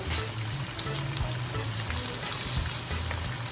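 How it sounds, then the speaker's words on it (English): Onions and pimento sautéing in a pan for escoveitch pickled vegetables, a steady close sizzle with faint crackles and a low hum underneath, no talking. "we have 4 onions, and we're going to saute this"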